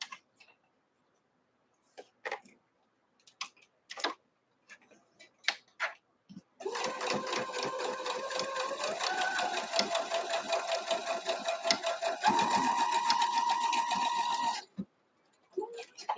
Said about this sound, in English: Now when I sew this, I'm going to sew straight. I'm going to go all the way across that other fabric.